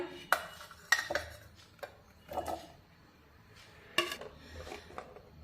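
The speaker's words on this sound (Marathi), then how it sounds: "आता हे टोमॅटो आपण मिक्सरच्या भांड्यात टाकूया" Chopped ripe tomato pieces dropped into a mixer jar, a few distinct clinks and knocks against the jar spaced across a quiet background, fairly close and moderately soft.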